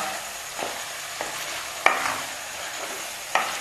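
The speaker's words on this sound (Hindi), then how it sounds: "इसको और मैं 5 मिनट के लिए और भूनूंगी कि सुर्खी माइल हो जाए, चिकन वाइट नजर ना आए" Chicken for jalfrezi frying in a pan, a soft continuous sizzle broken by a few scraping stirs and two sharper clacks of a utensil against the pan, close by and with no talking.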